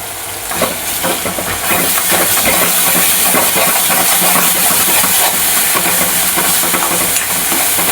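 Masala of coconut, ginger, garlic, coriander and sesame roasting in oil for Kolhapuri-style mutton fry, a loud, continuous hissing sizzle close by with faint stirring underneath.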